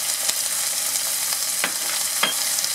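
Ginger garlic paste, garam masala, chili powder, coriander powder and cashews are stirred in a hot pan for butter chicken. A loud, continuous hissing sizzle is broken by a few soft scrapes of the spoon.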